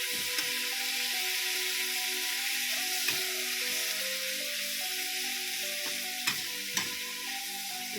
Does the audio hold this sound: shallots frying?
yes